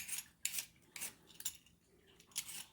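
Potatoes being peeled by hand, a series of short, faint scraping strokes in an irregular rhythm, close and quiet with no talk.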